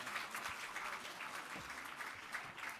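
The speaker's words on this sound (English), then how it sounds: "And I think that deserves a round of applause." Guests applaud at an outdoor brunch where military families receive mortgage-free homes: a steady, fairly distant patter of many hands clapping, with no talk over it.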